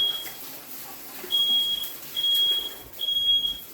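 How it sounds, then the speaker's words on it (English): A kitchen smoke alarm set off by black pudding frying, sounding three or four sharp high beeps in an even rhythm, moderately near, over quiet room noise. "we can safely say black pudding sets off the fire alarm"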